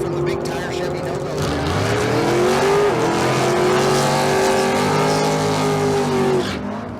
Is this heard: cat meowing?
no